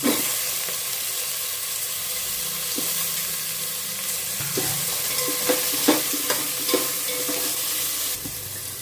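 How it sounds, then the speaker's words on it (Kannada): Potatoes added to hot oil with fenugreek leaves fry with a steady, close sizzle, broken by the scrape and clink of stirring in the pan. "ಈಗ ಆಲೂಗೆಡ್ಡೆ ಹಾಕೋಣ. ಅದನ್ನು ಸ್ವಲ್ಪ ಆಯಿಲಲ್ಲಿ ಫ್ರೈ ಮಾಡ್ಕೊಳ್ಳೋಣ."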